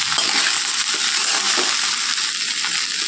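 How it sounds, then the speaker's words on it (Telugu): Chicken fried rice with salt and chili frying steadily in a pan, a loud continuous crackling sizzle with scattered scraping and clinking of a spatula stirring throughout. "అన్నానికి ఉప్పు కారం బాగా పట్టేలా దీన్ని ఫ్రై చేసుకోవాలి"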